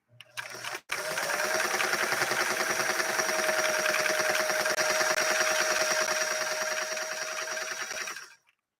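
A Singer 328K sewing machine stitches at speed on a slightly wobbly table, a steady, fast mechanical chatter that runs for about eight seconds after a brief start and stops abruptly.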